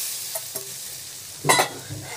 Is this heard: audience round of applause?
no